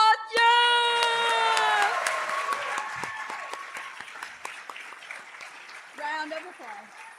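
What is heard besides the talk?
audience applause and cheering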